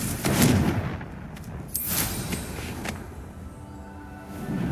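A Confringo blasting spell from Hogwarts Legacy fires off with sharp explosive bursts, a heavy blast at the start and another about halfway through, followed by a fading rumbling tail.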